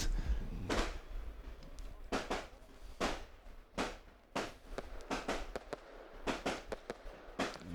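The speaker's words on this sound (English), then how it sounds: "Fireworks on the track, fireworks in the skies overhead." Fireworks bursting over the race track at Genk, Belgium, during an endurance karting final: a sequence of sharp explosive cracks and booms at irregular intervals, some in quick clusters, with crowd ambience between.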